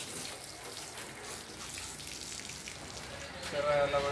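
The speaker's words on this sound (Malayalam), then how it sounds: "ജസ്റ്റ് ഒന്ന് വെള്ളം ഒഴിച്ചിട്ട് കൊടുക്കാം." Water is poured over a car to rinse off soap during a home wash, a close, steady splashing and trickling that swells louder near the end.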